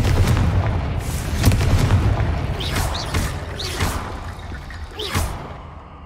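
Confringo blasting spells in the game Hogwarts Legacy explode in a run of loud, booming blasts with whooshing trails, several overlapping bursts close together.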